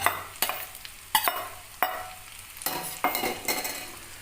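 Eggs stirred in a hot pan for egg fried rice: sizzling frying under repeated scraping strokes of a utensil against the pan, several sharp stirs in quick irregular rhythm, close and clear.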